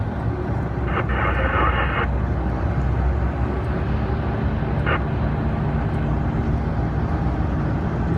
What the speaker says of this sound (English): Oh, there's the chopper.